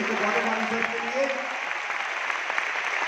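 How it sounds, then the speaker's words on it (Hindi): Audience applause at an award function, a continuous moderate wash of clapping with a voice talking faintly beneath it. "मैं चाहूंगा एक बार जोरदार तालियां"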